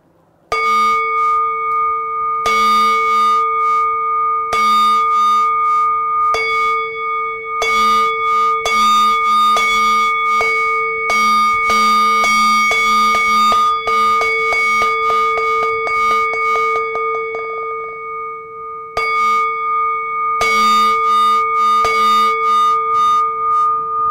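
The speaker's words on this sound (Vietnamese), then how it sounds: "Đây gọi là đánh một hồi chuông dài." A Buddhist temple bell struck over and over in one long continuous sequence, loud ringing strikes with sustained tones, first spaced slowly, then quickening into a rapid run before slowing again, with no talking.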